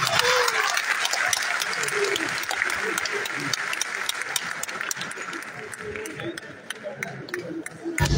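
Audience applause at the closing ceremony of Mali's national refoundation assemblies, sustained clapping from a large crowd in a hall, steady and fairly loud throughout with a voice speaking over it.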